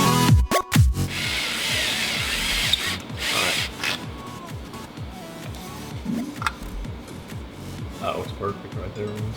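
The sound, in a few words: power drill drilling a hole for the turbo return fitting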